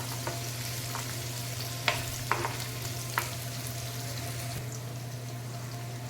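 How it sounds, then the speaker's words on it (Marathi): A small onion sautés in a pan for green moong usal, giving off a constant, even sizzle. A few light clinks of stirring sound over it. "ट्रान्सपरंट होईपर्यंत कांदा आपल्याला परतायचा आहे."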